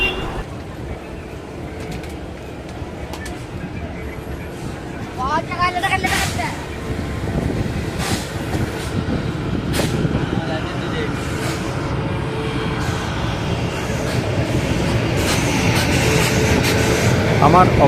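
Heard from inside the Netaji Express 12312 as it pulls out of Tundla Junction, a low rumble steadily grows louder, broken by scattered clanks and rattles of the moving coaches.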